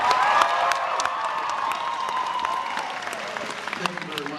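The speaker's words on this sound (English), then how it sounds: "I want to hear a big round of applause" An audience applauds and cheers to welcome models in corsets onto the stage at an opening ceremony in Tulsa, with claps fading gradually while a tonal hum and scattered crowd noise sit underneath.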